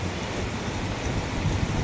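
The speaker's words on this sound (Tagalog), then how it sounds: "Uulan na naman." Rain falling on an island during a rainy spell, a dense continuous hiss and patter with a low rumbling undertone, steady and fairly loud throughout and without any voices.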